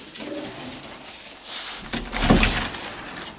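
Racing pigeons, young birds, coo softly in a loft with a few low throaty calls, joined by brief rustling and shuffling noises close by.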